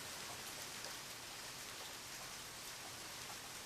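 Steady, even rain hisses throughout in the video game Deadly Premonition, a dense, continuous downpour pattering on surfaces with no other sounds standing out.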